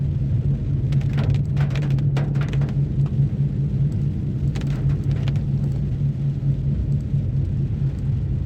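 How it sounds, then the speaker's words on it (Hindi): Steady rain patters on a car during a drive through forest in the Waranga area, with a constant low engine and road rumble underneath and scattered brief splashes or bumps, no talking. "बारिश के दौरान जंगल।"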